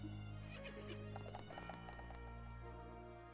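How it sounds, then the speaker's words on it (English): A spirited horse in the video game Professor Layton vs Phoenix Wright neighs and whinnies over clip-clopping hooves, loud and close against a steady music bed, with no talk. "This horse is certainly spirited"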